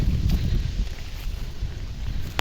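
Strong wind buffets the microphone in an open farm field, a loud, continuous low rumbling roar with gusty surges throughout the short stretch, no voices.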